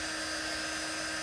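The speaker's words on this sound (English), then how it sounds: "But I think I'm going to sand this a little." Power sander running on a wooden round: a steady, continuous high-pitched whine, close and unbroken, with no pauses or talk.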